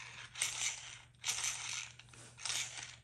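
A Revo transmission center gear cluster that needs shimming is turned by hand, giving three rough scraping, grinding bursts about a second apart, faint and close, with quiet gaps between them and no talking.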